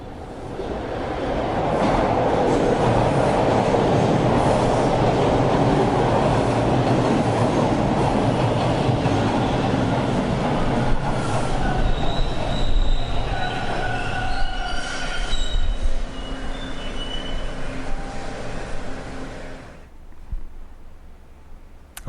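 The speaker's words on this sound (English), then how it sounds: "Close your eyes and listen to your train arriving" A subway train pulls into a station, a loud rolling rumble with sustained high metallic wheel squeals rising in the middle, then dying away as the train slows to a stop.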